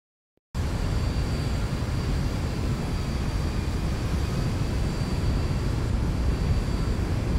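A Boeing 737-800 on final approach into Atlanta gives a steady, loud engine roar that starts abruptly after a brief silence and holds constant throughout.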